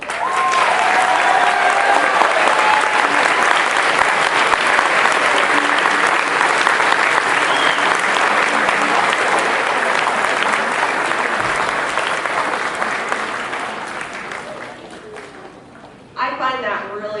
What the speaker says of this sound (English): think that deserves one more round of applause